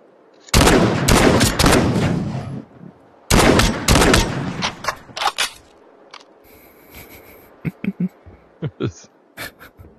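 Video game gunfire in bursts: two long loud stretches of rapid automatic fire up close, then scattered single sharp shots and short volleys, some fainter as if farther off, with no talk.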